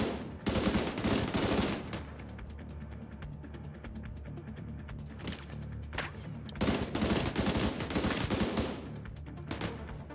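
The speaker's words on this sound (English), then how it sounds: "I'll try and keep the machine gunner down." Sustained automatic machine gun fire in The Division 2 shooter on PC, long rattling bursts with short pauses between them, loud and close, with no talk over it.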